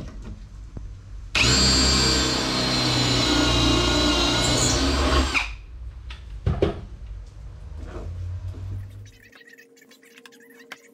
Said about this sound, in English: I'm gonna just go ahead and drill the pocket holes for now.